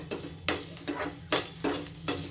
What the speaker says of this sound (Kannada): ಇದೆಲ್ಲ ಸ್ವಲ್ಪ ಫ್ರೈ ಆಗಬೇಕು ಈಗ